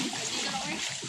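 Water splashes and sloshes steadily as someone wades through knee-to-thigh-deep floodwater covering a submerged road near San Isidro, Santa Lucia, with a continuous wash of churning water and voices talking over it.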